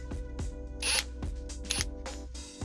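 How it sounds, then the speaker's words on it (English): A T25 Torx bit backing out a screw while installing a Steeda short-throw shift handle, heard as close, quiet mechanical clicks and ratcheting taps in an irregular rhythm, with brief brighter rasping bursts. "the next thing we gotta do is get out this screw"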